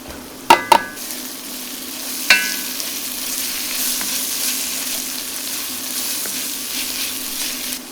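Garlic hits a hot pan with a couple of sharp clinks, then a steady close sizzle of frying that holds evenly throughout, with a brief scrape of stirring early on.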